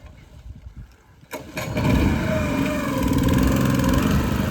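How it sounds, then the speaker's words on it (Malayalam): After a quiet pause, a boat's engine is cranked and catches, rising into a loud, steady mid-pitched running drone that continues close by, with no voices over it. "എഞ്ചിനെല്ലാം സെറ്റ് ചെയ്ത് വള്ളം സ്റ്റാർട്ട് ചെയ്യാൻ പോവാണ്"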